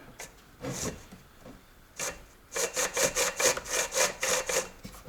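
The chain of a cheap new chainsaw, brake released, is pulled around by hand, giving a few scattered rasps and then a quick run of regular rubbing, ratcheting strokes, close up and without speech.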